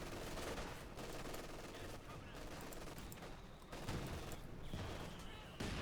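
Machine gun fire in the WWII strategy game Company of Heroes 2, including an MG42, dense rattling bursts mixed with explosions and battle noise, fairly loud throughout and broken by a few heavier booms.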